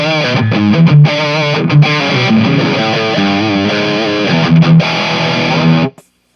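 High-gain electric guitar lead through a Joyo UZI distortion pedal on the bridge pickup, dry with no delay or reverb, playing fast sustained notes and bends loudly before stopping abruptly.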